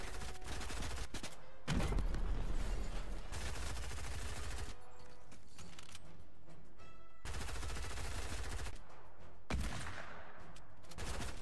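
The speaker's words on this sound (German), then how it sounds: "Ich habe dreimal geschossen und habe ihn dreimal gehittet." Video game gunfire, several bursts of rapid automatic shots separated by brief pauses, sharp and fairly close over quiet game background.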